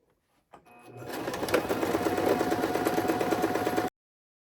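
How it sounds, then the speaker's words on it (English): A sewing machine runs in one steady burst of about three seconds, stitching a hem on stretchy shorts. The whirring is close and fairly loud, starting quickly and stopping abruptly, with no talking. "and sew that hem in place. And I like to sew on the right side just to make sure it's looking good."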